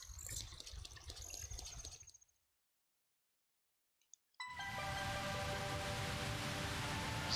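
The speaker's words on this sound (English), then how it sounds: "doing that will part the waterfall" Waterfall parting in The Legend of Zelda: Ocarina of Time, a rushing water roar that cuts to silence, then a couple of faint blips and a loud sustained gush of water that continues to the end, with no talking.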